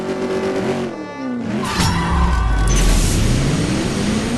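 Car engine in the CSR2 racing video game, revving hard and climbing through gear shifts with a steady loud roar and rising whine, close and continuous with no talking.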